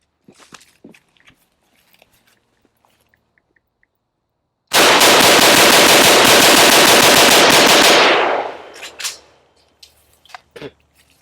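A Krebs Custom AK rifle, freshly cleaned and reassembled, test-fires in one loud, sustained full-auto burst of about three seconds of rapid, close shots. Quieter handling clicks and shuffles come before and after it.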